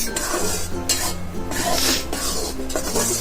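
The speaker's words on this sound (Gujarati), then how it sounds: "ગેસ ગેસ ચાલુ કરશું અને લોટને થોડો શેકી લઈશું" Dry flour roasted in a pan over a gas flame for gol papdi, stirred with a spoon that scrapes and rasps steadily against the metal, close and continuous, with no voices.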